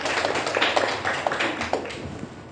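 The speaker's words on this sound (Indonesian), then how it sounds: "beri aplaus" A small audience claps for group 2 in a classroom-style presentation, a short burst of close, irregular hand claps that gradually thins out.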